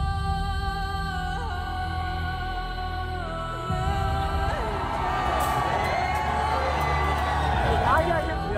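A large crowd gathers in Dongri awaiting Munawar Faruqui's arrival after his Bigg Boss 17 win. Steady chatter and murmuring swell into a louder babble of shouts and whoops, with a nearby voice talking over the crowd.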